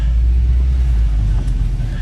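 A 2009 Cadillac CTS-V idling as it is shifted into reverse, a loud, steady low engine rumble close by with no revving.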